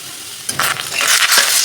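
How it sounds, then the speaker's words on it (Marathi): Onion and tomato frying in a pan over high gas heat, a loud close sizzle that bursts in after a short quiet start, with stirring scrapes and crackling that keep up to the end. "मी दोन्ही कांदा आणि टमॅटो हाय गॅसवर भाजत आहे."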